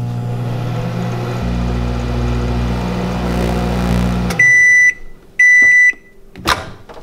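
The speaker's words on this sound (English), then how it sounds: "just put this in the microwave for exactly 30 seconds" Home microwave oven heating chocolate for a rock-cycle experiment, its low humming drone running for several seconds before stopping, followed by two loud electronic beeps and a clunk of the door.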